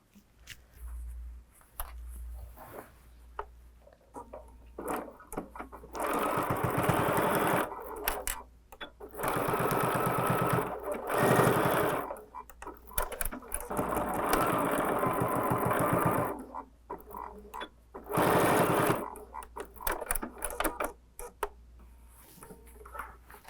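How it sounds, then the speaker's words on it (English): A sewing machine basts tote bag fabric at a scant quarter-inch seam, running in several loud sustained bursts with short pauses between them, close up and alone. "I'll take this to my machine and sew with that scant quarter inch to get these basted down"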